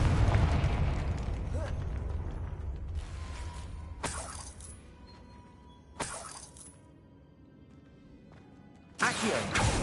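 A Confringo fire spell from Hogwarts Legacy goes off in a sharp burst, followed by a few more crackling blasts spaced a couple of seconds apart over a rumbling game backdrop, with no speech.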